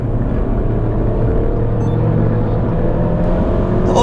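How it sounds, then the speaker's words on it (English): Transmission and engine of a 2019 Hyundai Santa Fe revving as it drives, a loud, steady low drone with road rumble heard from inside the car. "now you hear the transmission revving"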